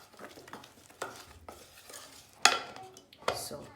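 Shortbread cookie ingredients being stirred together in a bowl, a soft scraping and stirring with a few sharper clinks of a utensil against the bowl, close and fairly quiet.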